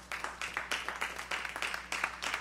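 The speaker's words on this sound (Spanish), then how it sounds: "Denle un aplauso al Señor" A church congregation claps along in rapid, regular bursts, a steady rhythmic applause filling the room at moderate loudness with faint voices underneath.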